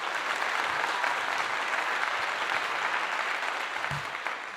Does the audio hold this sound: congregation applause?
yes